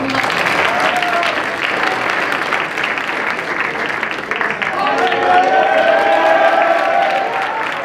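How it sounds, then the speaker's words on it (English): An audience claps at a high school national business honor awards ceremony, producing steady, full-room applause that continues for the whole stretch with some crowd murmur mixed in. "We can clap for"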